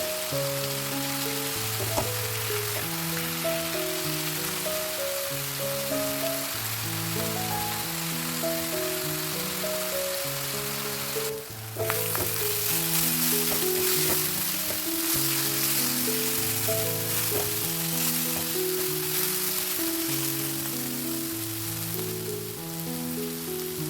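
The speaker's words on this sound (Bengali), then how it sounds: "এইভাবে একটু নাড়াচাড়া করে ভেজে নিচ্ছি।" Onions and tomatoes stirred and frying in a pan for an egg tadka, a steady close sizzle running throughout under a continuous backing of patterned musical tones, with a brief dip near the middle.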